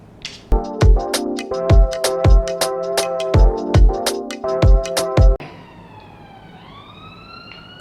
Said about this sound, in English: Oh, not the police, it's ambulance.